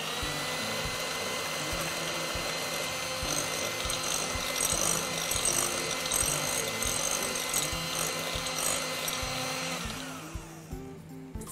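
Electric hand mixer whirs steadily through potato flakes and hot water for a potato fruit cake batter, a close continuous motorized buzz with grinding texture that winds down and stops near the end.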